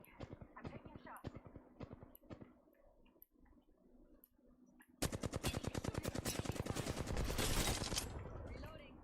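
Gunfire crackles through a video game shootout, starting with scattered sharp shots and then breaking into a dense, loud burst of rapid automatic fire that holds steady for several seconds, with faint speech underneath.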